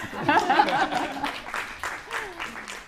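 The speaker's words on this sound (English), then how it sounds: "Applause, please." Scattered applause from a small audience at a design school talk, light clapping mixed with chuckles and a voice speaking over it.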